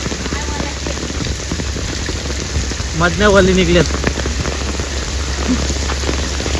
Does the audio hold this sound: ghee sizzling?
no